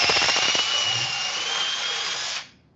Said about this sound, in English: So I'll bring the drill in and out a couple times